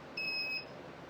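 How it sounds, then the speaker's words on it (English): An alarm beeps in a single steady electronic tone lasting about half a second, clear against quiet background hiss with no talking. "alarm going off."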